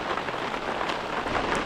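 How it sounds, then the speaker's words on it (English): Heavy rain falling on Loch Lubnaig during a kayaking trip in an inflatable Aquaglide Cirrus, a dense, steady hiss of drops close by and fairly loud, with no voices. "been out in relatively heavy rain."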